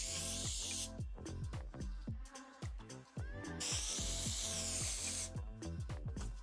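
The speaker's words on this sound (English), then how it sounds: "with the texture spray is I will actually hold my hair up just like this and spray again" Several hissing bursts of hair texture spray, close and loud, separated by short pauses, over a clattering background.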